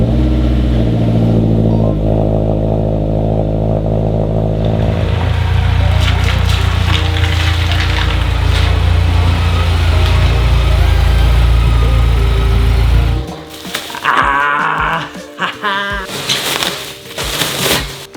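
Mazdaspeed 3 engine holds a loud, steady idle that drops into a lower drone, then breaks into several sharp revs near the end, heard up close.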